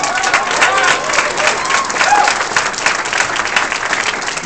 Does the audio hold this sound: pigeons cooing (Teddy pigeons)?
no